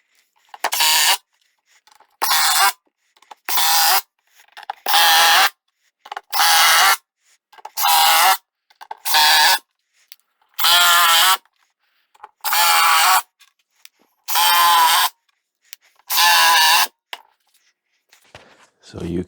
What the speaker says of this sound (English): when I'm driving screws on the plywood, it resonates on the plywood